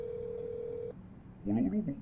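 A steady electronic telephone tone sounds in the Roblox game That's Not My Neighbor, cutting off abruptly before a voice starts talking.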